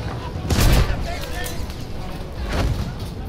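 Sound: gunfire from Battlefield 1 video game

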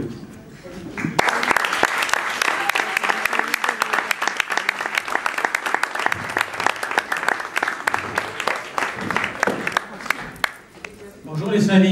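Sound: audience applause for Vieux Kem Paumé

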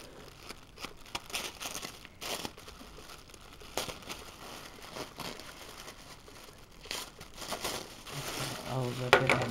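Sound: ripping open a package of happy mail

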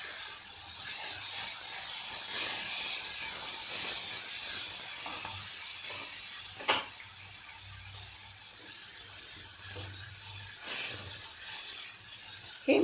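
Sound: chopped vegetables sautéing in oil

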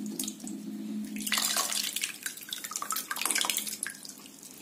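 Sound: water poured over tamarind, strained by hand

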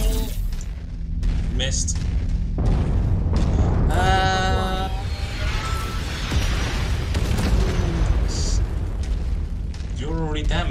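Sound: artillery explosions in video game Mechwarrior 5

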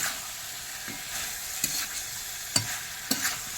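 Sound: stirring chicken with red chilli powder in a frying pan

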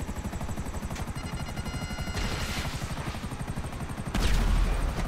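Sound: helicopter and gunfire in a video game

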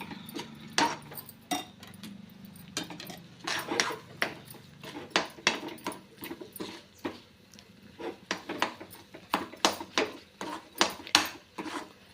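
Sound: stirring rice flour dough for modak in a pan

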